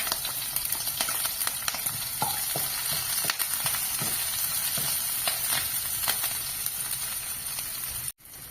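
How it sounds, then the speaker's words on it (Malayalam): Chopped onion, green chili, curry leaves and ginger sautéing in a pan after mustard seeds pop, giving a steady close sizzle and hiss with scattered stirring clicks, then a brief cut near the end. "അതിലേക്ക് സവാള, പച്ചമുളക്, വേപ്പില, ഇഞ്ചി ഇവ ഇട്ട് നന്നായിട്ടൊന്ന് വഴറ്റുക."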